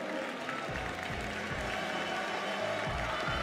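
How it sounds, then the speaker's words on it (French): An awards ceremony crowd applauds a high school team on the podium, a broad, steady wash of clapping with cheering, continuous and full, heard from within a large hall. "Bravo, bravo, applaudissez-les bien fort"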